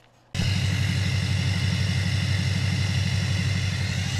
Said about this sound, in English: Man, there's nothing better than a deleted Duramax.